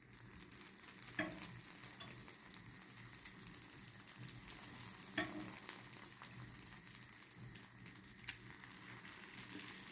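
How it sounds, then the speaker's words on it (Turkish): Hot homemade lemon syrup pours over freshly baked baklava, making a soft continuous sizzle and crackle with a few brief louder splashes spaced several seconds apart, quiet and with no talking. "Şimdi şerbetini döküyoruz"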